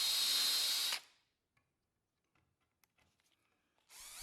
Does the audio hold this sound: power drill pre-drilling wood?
yes